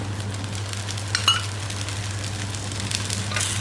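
Oil sizzling steadily under a wheat dosa frying on a hot pan, a soft continuous hiss with a faint utensil click, no voices.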